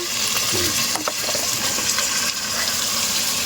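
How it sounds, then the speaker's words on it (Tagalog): Shrimp dropped into a pan of browned garlic, frying with a steady, close sizzle and some stirring clatter throughout. "ilagay na natin yung ating shrimp. Kasi, brownish na po yung ating bawang."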